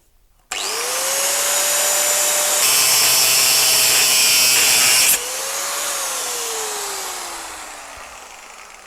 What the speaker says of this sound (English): I'm going to use the angle grinder